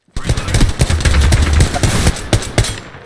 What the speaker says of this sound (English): Open fire on our prey